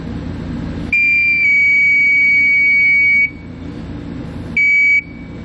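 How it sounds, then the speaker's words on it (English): Steady electronic tone from a circuit tester probing the pins of a 7-wire trailer connector, sounding loud and continuous for about two seconds, then returning for one shorter beep. No voice. "just go through and start probing each one of the pins until I get a signal letting me know that it's on."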